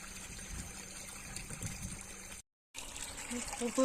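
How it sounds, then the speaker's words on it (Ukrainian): Water runs from a cube tank into the bottom of a 12.5 m Abyssinian well borehole during flushing, a steady close trickling and gurgling flow with a brief cut in the middle. "Подаємо воду в забой з кубика."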